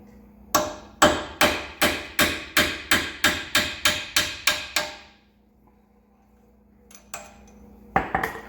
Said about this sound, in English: Unfortunately, I don't have the socket that fits this, so I'm just going to use a punch.